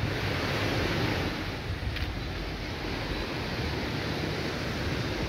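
Ocean surf rolling onto Hastings Beach on the south coast of Barbados, a continuous loud wash of breaking waves with heavy wind buffeting the microphone throughout.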